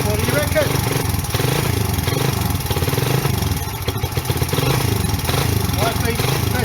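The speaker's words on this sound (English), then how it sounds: "She's got a kickstart, and let's see if she likes to go." A Honda XR 125 motorcycle engine runs after being kickstarted, a loud continuous near putter that stays steady throughout, with someone talking over it.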